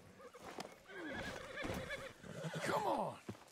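A horse whinnies in two drawn-out, wavering calls in the video game Red Dead Redemption 2, with a snort and faint hoof clopping in the background.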